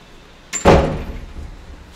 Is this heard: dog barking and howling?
no